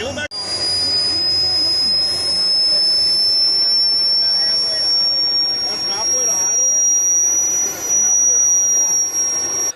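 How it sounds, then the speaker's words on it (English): A loud, continuous high-pitched turbine whine roars steadily throughout, like a small jet engine running at full power close by, from a jet-powered RC truck at an RC event. "Saw like a sickening jet-powered truck in the process here"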